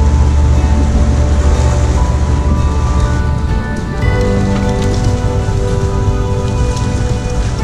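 Heavy rain falls on a sailing boat moored in the Great Sandy Strait, a steady, loud, close hiss and patter of drops drumming on the deck and cabin that continues throughout.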